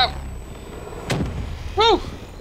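A frag grenade bursts in the Black Ops 3 multiplayer beta, a single sharp blast with a low thump that fades quickly, followed by a brief chirping game sound.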